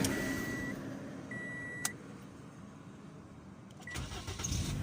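A 2013 Toyota Altis with a start fault cranks and its engine catches near the end, rising into a quiet idle after a few faint electronic beeps and clicks in an otherwise calm space.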